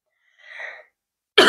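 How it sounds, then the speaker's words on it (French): A single persistent cough bursts out loudly and close at the very end, after a softer breathy sound in the middle, with no talking. "Excusez-moi pour la toux, une toux persistante"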